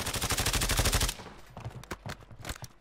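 Rapid automatic gunfire from a Call of Duty match, a dense burst for about a second, then scattered sharper shots and clatter at lower level.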